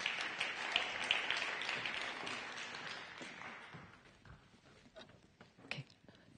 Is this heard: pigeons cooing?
no